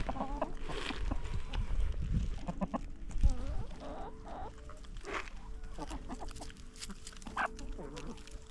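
Farm chickens cluck and murmur steadily as they are fed, several birds close by and fairly loud, with scattered sharper calls and a little rustling throughout.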